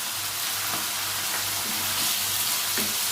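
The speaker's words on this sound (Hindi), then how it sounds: "मैं इसे तकरीबन 2 मिनट के लिए इसमें अच्छे तरीके से फ्राई कर लूँगी लहसुन और अदरक के साथ" Steady hiss and sizzle of garlic and ginger frying in hot ghee, close up, with occasional soft stirring scrapes and a low hum underneath.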